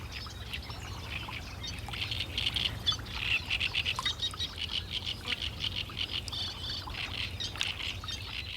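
A warbler sings in a Greek marsh, bright thin chirps and trills repeating in quick bursts, fairly faint against a low steady murmur of wetland background.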